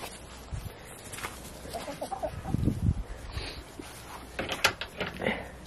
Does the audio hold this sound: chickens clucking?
yes